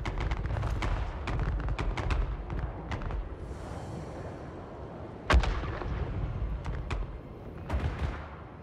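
Artillery and gunfire from Total War: Warhammer 3, in a Chaos Dwarfs attack on Karl Franz's forces: dense rumbling battle noise, with repeated gunshots and sharp booming cannon blasts cracking out over a steady, loud din.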